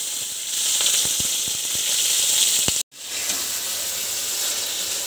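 Vegetables fry in a pan over a high gas flame with a steady, loud broadband sizzle, briefly cut off near the middle before the sizzling resumes.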